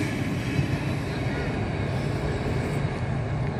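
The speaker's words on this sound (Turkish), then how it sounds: "Yolcu trenlerimiz geliyor şu an." Passenger train rushing past a rural station in Zonguldak without stopping, a loud, steady rumbling roar that holds throughout, with wind-like broadband noise.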